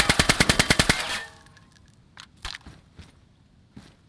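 In the video game DayZ, a weapon fires a rapid burst of about ten shots at a box. Scattered thuds and ricochet-like impacts follow as the firing stops, and no one talks.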